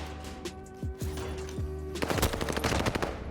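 Automatic gunfire in a Warzone match, several rapid bursts with sharp transients building to a dense volley in the second half, loud and close over a steady game-audio hum.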